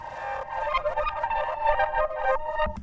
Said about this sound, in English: And after this I reverse an accent, sound like this,